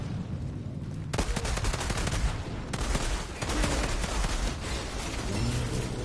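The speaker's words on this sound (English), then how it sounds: "I'm gonna try out these pistols though, just to see what this mod is like. It's a fireworks mod." Rapid pistol shots from a fireworks-modded weapon in the Outriders video game, sounding as dense, continuous bursts of gunfire with crackling pops, loud and close throughout.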